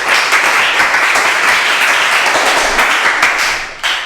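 A class of students applauds in a steady, dense burst of clapping that stays loud and even throughout, with no talking over it.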